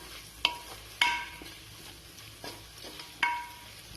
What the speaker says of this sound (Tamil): இப்ப நம்ம சேர்த்துருக்க தக்காளி எல்லாம் வந்துட்டு ரொம்ப நல்லா வதங்கிட்டு இருக்குதுங்க